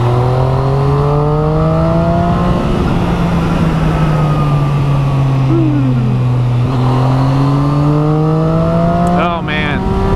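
A Triumph Street Triple 675R motorcycle engine hums and rises in pitch as it accelerates nearby, steady and close, with a brief shift near the end.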